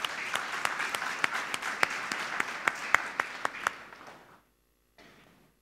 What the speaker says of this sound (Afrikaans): Janko Botes, kom 'n lekker hande klap.